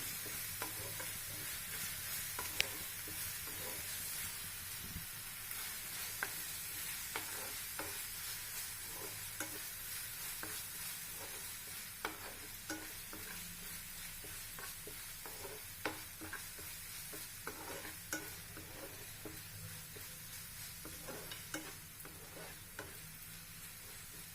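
Ginger garlic paste fries in oil for a crab fry, making a soft, continuous sizzle with light stirring clicks and taps scattered throughout, fairly faint and without talk.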